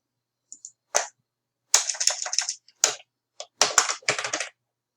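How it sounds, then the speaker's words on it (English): Bursts of quick keystrokes on a computer keyboard as a name is typed, close and crisp, arriving in short clustered runs separated by brief pauses. "So we're going to type our name."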